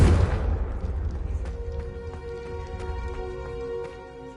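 A Confringo blasting spell in Hogwarts Legacy detonates as a heavy booming explosion, then rumbling debris and scattered cracks settle into a ringing, magical tonal decay over several seconds.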